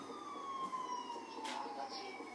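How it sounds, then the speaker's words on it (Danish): Ambulance siren wailing in a long, slowly falling tone, fairly faint and distant, passing along a street with a brief burst of noise midway; no one talks over it. "Så var der ambulance."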